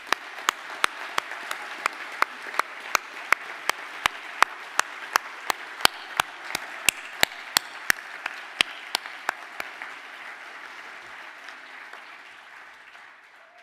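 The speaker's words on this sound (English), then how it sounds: "I would like to ask the class to please stand for a round of applause." A standing graduation class claps at a ceremony, a series of sharp, evenly spaced loud claps that carry on for about ten seconds and then fade into quiet room noise.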